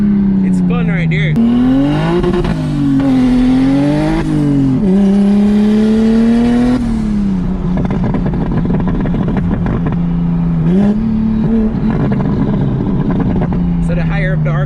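An 800 hp big-turbo BMW 335i engine revs hard to high RPM during a drive, with a loud rising and falling roar and turbo whine, and people talk over it inside the car.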